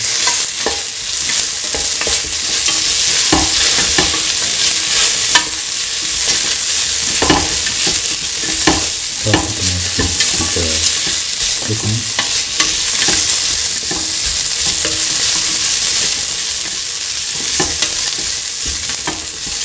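Tomato coconut rice being sautéed in a pan, with a loud continuous sizzle broken by repeated scraping stir strokes and clinks of the spatula, close up and with no one talking.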